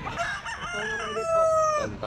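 Roosters crow at a Sunday pet market, one close, clear drawn-out crow rising and holding, with other fowl sounds and faint background noise around it.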